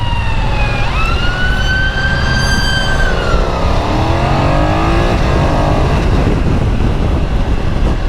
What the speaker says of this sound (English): Now I'm going to take this opportunity to follow this ambulance right the way through all this traffic.